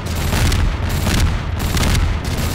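Rapid, dense gunfire aimed at a nextbot monster in Garry's Mod, a loud continuous barrage with repeated booming shots and no speech over it.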